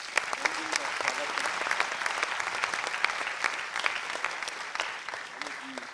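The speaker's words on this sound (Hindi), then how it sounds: "एक तालियों से उनकी जन्मदिन का स्वागत" Audience applause welcoming a birthday at an event, a dense steady patter of many hands clapping throughout, fairly close and continuous, with faint voices mixed in.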